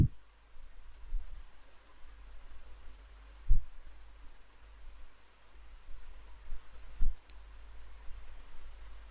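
A computer mouse clicks sparsely while a design is being built in CorelDraw, a few soft, isolated clicks spaced several seconds apart over a quiet background hum, with no talking.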